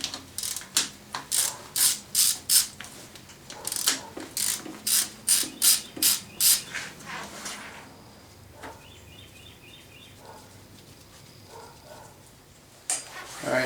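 Ratchet wrench clicking in quick repeated bursts as two bolts come off the carburetor brace of a Polaris Sportsman 500 ATV, close and crisp, with a pause and a few lighter metallic taps after.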